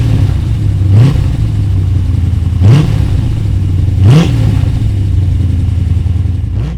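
A 5.8-litre Chevy V8 in a BMW E21 idles with a deep rumble and is blipped three times, each rev rising sharply and falling back to idle.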